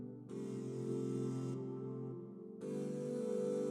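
Soft, sustained keyboard chords swell and change, washed in Sound Toys reverb and echo, quiet and alone.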